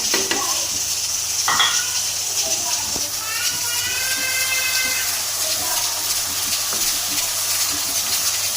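Spices and masala for spinach and chana dal frying in a pan with a steady hiss and sizzle, broken by a few scraping stirs and utensil taps. A voice speaks briefly over the cooking.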